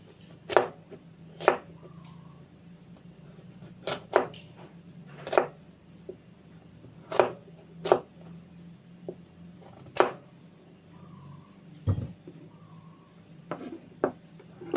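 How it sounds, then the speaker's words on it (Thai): Half a pumpkin is chopped into bite-sized pieces for a Thai red pumpkin curry, a knife striking a cutting board in sharp, irregular close thuds, often paired, over quiet room tone. "ก็หั่นชิ้นพอคำนะคะ จะได้สุกเร็วเนาะ"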